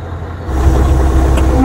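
A 1996 Scania 143M truck rumbles steadily in low gear as it swings around a turn, its deep engine drone loud and close throughout with a brief higher tone near the end.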